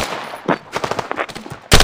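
Rapid gunfire in a shooter video game, a quick run of close, punchy shots in an uneven rhythm, ending in a louder burst.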